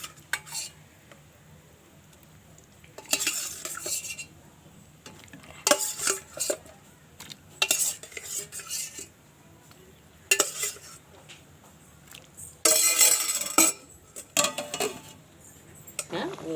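Pieces of korava fish go into a pot of boiling homemade fish kulambu. Repeated bursts of splashing and metal utensil clatter come in irregular clusters over a quiet bubbling background.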